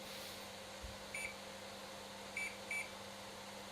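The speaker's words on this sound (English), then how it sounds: "they need to go in the microwave" Microwave oven heating potatoes, a steady low hum and fan whir running throughout with three short electronic beeps, near and moderately quiet, with no talking.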